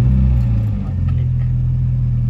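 A 1998 Mitsubishi Lancer engine fitted with a thermostat runs with a loud, close, low idle rumble, steady throughout after a brief dip in level.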